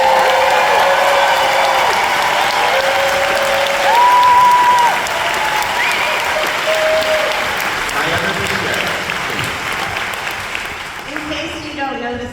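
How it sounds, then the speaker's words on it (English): A large crowd applauds at a film premiere for The Lonely Child, with loud, dense clapping throughout that fades gradually toward the end, plus a few whistle-like tones and faint voices mixed in. "Ladies and gentlemen, please give a round of applause to the incredible Alex Wall."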